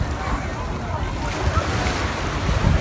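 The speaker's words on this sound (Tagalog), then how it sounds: "Wave, wave." Ocean surf at a beach where people go surfing on a calm day with small waves, a soft continuous wash of water with wind noise on the microphone, fairly quiet.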